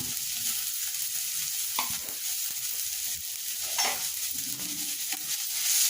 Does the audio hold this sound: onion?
yes